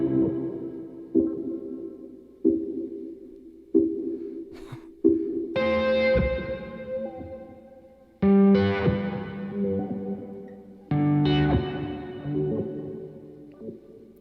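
Electric guitar through a Thermae delay and harmonizer pedal with reverb added, short plucked notes repeating at a steady pulse before big washy chords bloom and ring out in long, echoing trails, with no talking.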